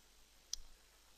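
A single faint, sharp computer mouse click during Photoshop editing work, heard alone over a quiet low hiss.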